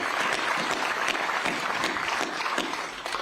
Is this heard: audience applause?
yes